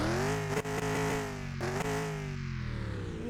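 A Chevrolet El Camino SS engine in Car Mechanic Simulator 2021 revs loudly and continuously, its pitch climbing and falling through a few throttle blips with a dense, rumbling exhaust tone.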